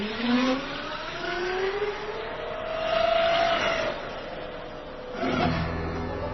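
A lithium-powered electric motorcycle pulls away from a standstill with a smooth, rising electric whine that climbs in pitch in a few surges. It carries no gear changes, is moderately loud and is heard alone.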